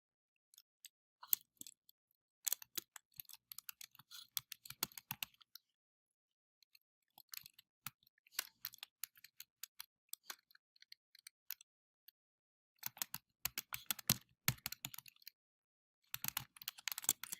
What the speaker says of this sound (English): To create a question, type the question in the box.